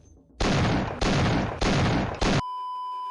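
Machine gun from Half-Life: Opposing Force fires in four loud, close bursts of rapid shots with brief gaps between them, then cuts off to a faint electronic hum.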